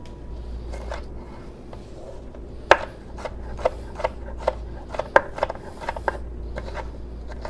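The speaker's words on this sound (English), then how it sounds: "I'm gonna use today a little bit of red pepper. And I'm just gonna mince it." A knife minces red pepper on a cutting board, giving a run of sharp, irregular taps near the mic over a steady low hum, with a few louder chops standing out.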